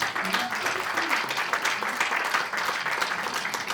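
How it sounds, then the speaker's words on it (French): An audience at a film presentation applauds steadily for a few seconds, a dense wash of clapping from a room full of people, with a voice briefly audible underneath. "on les applaudit."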